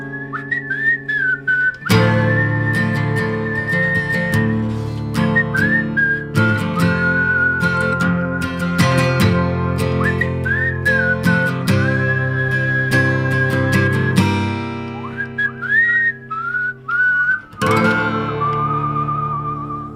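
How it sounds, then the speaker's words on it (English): A man whistles a lilting melody up close, clear and sustained, over a backing of piano or guitar chords with no talking. "The whistles just come out of him."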